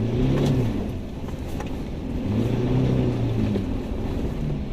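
A 4x4 vehicle stuck in mud on the way to a fishing spot revs hard in repeated rising and falling surges, loud and close, with no voices.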